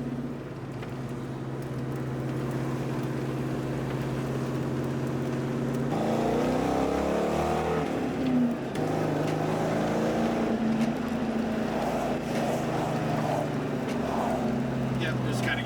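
Ford Mustang SN95 engine running with a stutter, a low rough idle rumble that swells and wavers unevenly, heard close with people talking over it.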